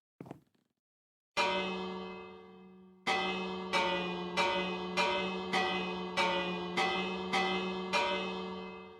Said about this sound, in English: OP24, quit ringing that bell!